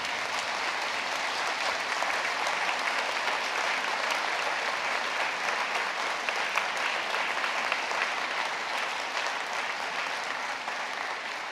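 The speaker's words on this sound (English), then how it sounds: "A big round of applause for family and friends." Applause from a crowd of standing graduates at a graduation ceremony, thanking family and friends; dense, steady clapping that stays loud and even for the whole stretch, with no talking over it.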